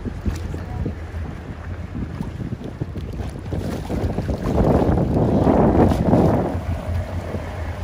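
A boat motor hums steadily beneath heavy wind rushing across the microphone, growing louder partway through as water splashes along, while circling Little St. James island.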